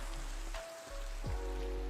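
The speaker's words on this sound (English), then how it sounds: "now that it's daytime but raining" Steady rain falls across a Minecraft game world during daytime, a continuous hiss with a low rumble underneath, briefly dipping before returning, mixed with faint game tones.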